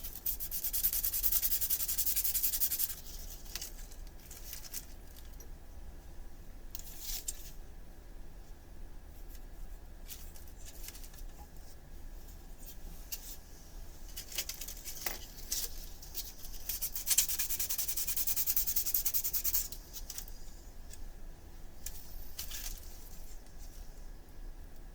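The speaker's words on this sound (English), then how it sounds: "What we should do is maybe sand one side." Styrofoam sanded by hand with sandpaper, a continuous soft rubbing and scratching that keeps up for the whole stretch. It sounds close and quiet, with some brief brighter hissing bursts and no talking.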